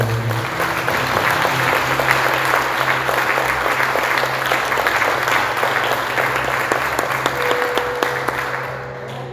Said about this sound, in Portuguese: Irmãos, eu te convido a dar uma forte salva de palmas para o Senhor